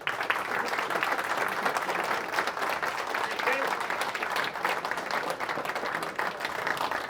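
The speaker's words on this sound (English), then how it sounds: "can I introduce to you, please, for a big round of applause for James Whitham" A live audience at a motorcycle racing podcast evening in a pub gives a guest, former racer James Whitham, a sustained, even round of applause that fills the whole stretch with dense clapping.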